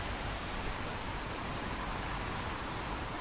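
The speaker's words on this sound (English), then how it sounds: "if I click on this lovely cloud icon, an ambient rain sound will start playing." Steady rain ambience from a video game, a dense continuous hiss of falling rain at an even level throughout with no talk.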